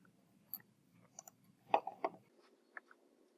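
A few sharp computer mouse clicks, close and quiet, with a tight double click near the middle and a couple of lighter taps around it, over a faint low hum.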